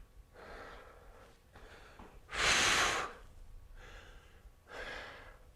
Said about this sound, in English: Breathing, breathing, breathing.